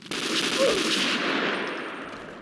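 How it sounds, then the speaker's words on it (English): Rapid AK rifle bursts from a bootleg Counter-Strike PC game, a loud, close, continuous rattle of shots lasting a couple of seconds before fading slightly. "shooting the AK especially feels kinda crazy"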